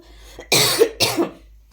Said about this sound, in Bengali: আমার কাশিটা কবে যে ঠিক হবে।